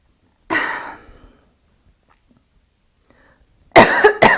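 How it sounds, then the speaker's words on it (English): Two separate coughing bursts from a woman during an online group reading, the first a harsh cough near the start and the second a louder, clustered burst toward the end, close and clear with silence between. "I just had a little coughing fit thing come into my throat chakra"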